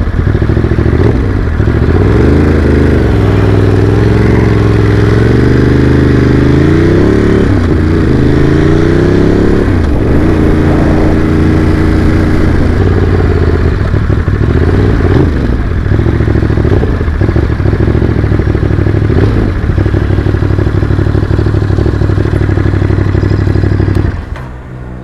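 A Ducati hypermotard motorcycle engine on a test ride, a loud continuous drone rising and falling in pitch through gear changes and throttle, with wind noise, close and steady until it cuts off at the end.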